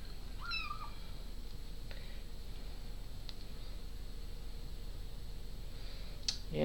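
A single short kitten meow near the start, then quiet room hum with a few faint clicks.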